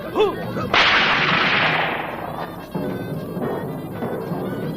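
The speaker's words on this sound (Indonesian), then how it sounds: "Pecut meledak beberapa kali, menggertak Mangur dan laskarnya." A whip cracks sharply in a radio drama scene, one loud snap followed by a ringing tail, then further cracks and rumbling bursts, loud and close with no talking over it.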